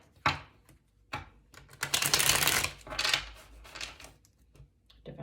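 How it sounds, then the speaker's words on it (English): Tarot cards are riffled and shuffled close by in quick papery bursts, with brief pauses between rounds and no talking. "do one last shuffle."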